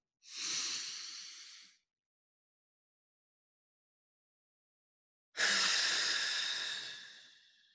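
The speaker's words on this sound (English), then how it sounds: "Take the breath in." Two slow, deep breaths during a guided meditation, each a soft airy hiss lasting over a second, close and alone with silence between them.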